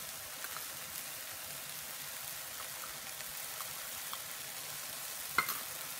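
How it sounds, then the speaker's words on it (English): Mango chutney being stirred with two teaspoons of roasted, ground pickle powder, a soft steady scraping and wet churning throughout with one brief sharper clink near the end, fairly quiet and with no talking. "Mix everything together."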